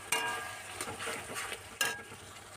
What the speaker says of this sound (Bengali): দিয়ে আরও কিছুক্ষণ মশলাটা কষিয়ে নেব।